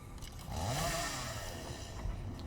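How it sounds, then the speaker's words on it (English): An orange chainsaw in the video game Satisfactory runs in a quiet, buzzing rasp, rising briefly as it revs and then settling into a steady drone, with no talking. "So, I'll show you how to use the chainsaw."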